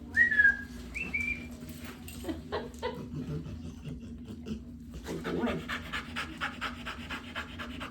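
Rapid, rhythmic dog panting close up during a vet check-up, with a couple of short whistles at the start and a voice murmuring faintly underneath.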